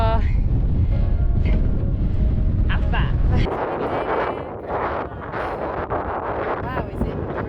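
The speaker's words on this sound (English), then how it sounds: "Wow, is it breezy? It's windy." Strong wind on Mam Tor in the Peak District buffets the microphone with heavy low rumbling gusts, easing slightly partway through, while a voice speaks under the roar.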